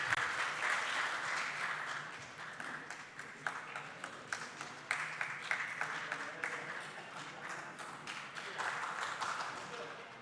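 Audience applause at a nature photography club's annual award ceremony in a museum hall, sustained steady clapping from a crowd filling the room for about ten seconds.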